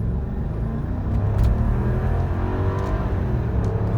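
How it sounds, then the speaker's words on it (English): A 2000 Mercedes E430 with transmission trouble under aggressive acceleration, its engine note loud and rising steadily with a throaty rumble throughout, no voices. "I'm going to do a fairly aggressive acceleration run."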